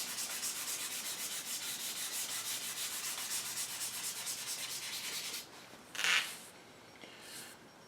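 English walnut gunstock is hand sanded with sandpaper in quick, even back-and-forth rubbing strokes, close and steady, then the strokes stop and a couple of brief scuffs follow, with no talking.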